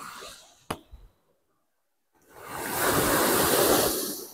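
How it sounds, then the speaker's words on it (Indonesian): Ocean waves rising and surging at the shore: a short splash and a gap of near silence, then a loud, broad rush of surf builds and holds, close and with no talk over it. "ombak langsung naik ya"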